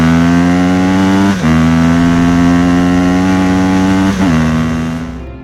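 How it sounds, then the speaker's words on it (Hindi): Cartoon motorbike engine running steadily at a loud, even drone, with two brief dips in pitch as it shifts or slows, then fading slightly at the end as the bike pulls up. "तभी बाबा और गुल्ली बाइक लेकर वहां पर पहुंचते हैं।"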